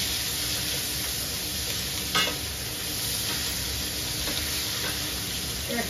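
Potatoes and egg fry in a pan with a constant, close sizzle and hiss, broken by a few sharp scrapes of stirring.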